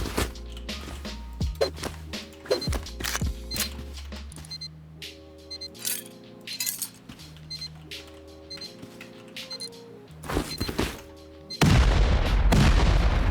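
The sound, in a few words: explosive ammo gunfire in the video game Rust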